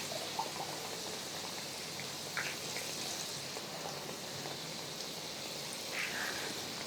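Battered potato bhaji slices fry in hot oil with a steady, soft sizzling hiss and a few faint pops and crackles, a close, continuous bubbling with no talking.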